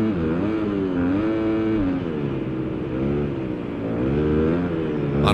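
A dirt bike engine in Supercross 6 revs and wavers continuously, the throttle rising and easing in uneven surges as the motorcycle races a supercross track, loud and steady with no break.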